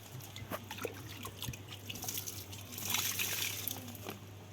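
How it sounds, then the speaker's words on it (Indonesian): Water is poured over freshly repotted potted plants, trickling and splashing in an uneven stream that swells briefly, fairly quiet and close with no talk. "kita siram aja, guyur aja ya teman-teman, biar seger tanamannya."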